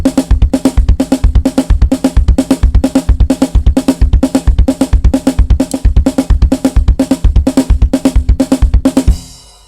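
A drum kit plays a fast, continuous sixteenth-note kick-kick-right-left pattern, dense and loud throughout, ending in a brief ringing decay with no one talking.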